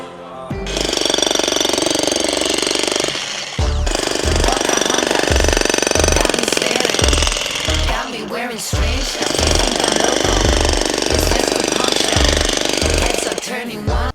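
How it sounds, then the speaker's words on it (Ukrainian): ProCraft PSH2600 brushless jackhammer breaking a half-metre block of reinforced concrete, loud and close, with sustained hammering bursts separated by brief pauses. "за скільки часу ось цей півметровий кусок бетону розіб'є цей відбійник"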